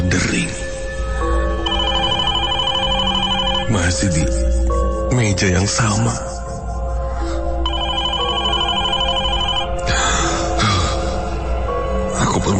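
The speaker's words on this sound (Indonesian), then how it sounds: "suara telepon berdering" A telephone bell rings loudly in repeated bursts across the clip while a voice speaks over it.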